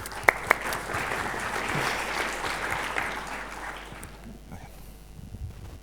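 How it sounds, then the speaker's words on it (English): A tutorial audience at an IETF meeting gives a few seconds of steady clapping that swells, then tapers off quickly, fairly close and without talk. "An applause for our guys."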